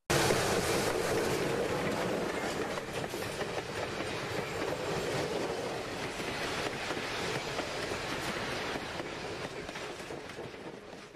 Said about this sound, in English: The train emerged from the tunnel and...